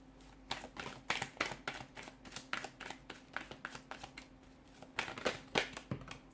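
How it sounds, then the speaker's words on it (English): Tarot cards are shuffled by hand in quick, uneven bursts of papery riffling and tapping, close and fairly quiet. "give the cards a shuffle"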